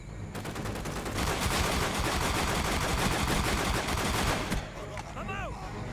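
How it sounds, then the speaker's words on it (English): Rapid burst of FN FAL assault rifle gunfire in Call of Duty: Black Ops on the Wii, loud sustained shots for about four seconds before fading into quieter game sounds. "The FN FAL is a pretty beastly assault rifle."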